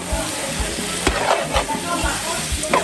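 Onion sizzling and frying in a pan, a steady close crackle with occasional louder pops and stirring clatter throughout.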